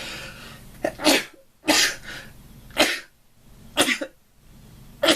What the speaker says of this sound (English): that was only 5 sneezes